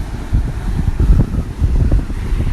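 Blustery wind buffeting the microphone at a beach before Hurricane Dorian, loud irregular low gusts and rumbling surf with broadband hiss, no voices.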